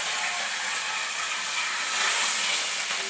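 Tender neem leaves and green chillies frying in hot oil, a steady, loud, bright sizzle and hiss that holds close and unbroken throughout and swells slightly toward the end.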